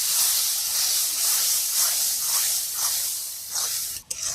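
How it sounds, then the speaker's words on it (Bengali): Ash gourd with fish roe and rice flour hisses and steams steadily in a hot pan while being stirred, a continuous close sizzle with soft stirring swells and a brief dip near the end. "এটাকে আমি ভালো করে নেড়ে নেব।"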